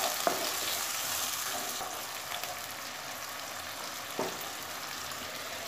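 Spice paste of ground cumin, coriander, green chillies and ginger frying with onions for a pumpkin curry, a steady close hiss of sizzling oil with a few brief stirring scrapes and no talk.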